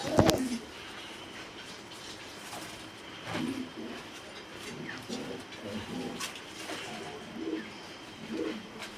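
Black Lotan pigeons give soft, repeated low coos in a loose rhythm, fairly faint against background noise, with a sharp knock near the start.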